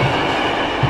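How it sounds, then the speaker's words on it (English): A train rolls along a nearby track in the medieval city of Diest, a loud, continuous rumble and rattle of wheels across the short moment with no talk. "There's also a train track right there."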